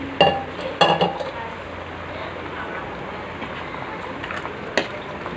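Boiled dal poured into a pot of boiling snake gourd vegetables for sambar, starting with a few clanks of a ladle against the pot, then a low, steady bubbling stir.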